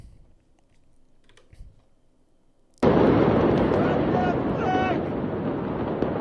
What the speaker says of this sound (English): Here's a angle that kind of shows the fireworks.